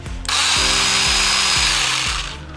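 Cordless pruning saw cutting branches, a loud continuous motor whine with regular pulsing strokes, close and alone.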